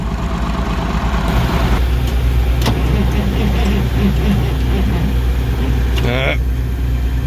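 A Dodge diesel semi truck engine runs outdoors in cold weather, a loud, steady low rumble close by with a few sharp mechanical clanks and a brief squeal near the end.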